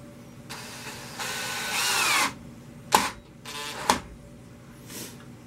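A power drill drives screws into a wooden bowl blank in a woodturning shop: a rising whine for about two seconds, then two short sharp bursts and a faint final one, fairly close with quiet pauses between.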